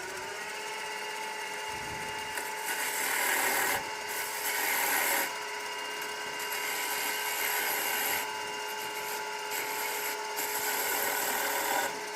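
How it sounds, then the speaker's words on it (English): A 3/8-inch spindle gouge with a flat, rounded-point grind cuts a spinning wooden top on a lathe, giving a steady, continuous scraping hiss over the motor's hum with a few louder swells. "I'm using a 3/8 spindle gouge for this with a very flat end on it"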